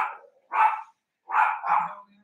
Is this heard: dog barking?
yes